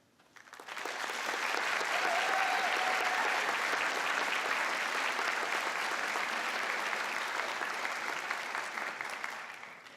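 Audience applause at a college convocation swells quickly and holds as a dense, steady wash of clapping for several seconds, then begins to fade.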